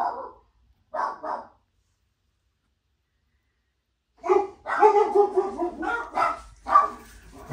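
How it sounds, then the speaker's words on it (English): Several dogs bark in short bursts, a couple of sharp yips early on, then a louder, busier stretch of overlapping barking near the end. "our dogs want to go crazy all of a sudden."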